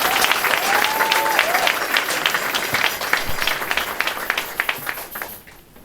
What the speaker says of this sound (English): students a round of applause